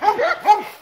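Dogs giving a few short, yelping barks and whines up close, two or three quick bursts in under a second, with no speech over them.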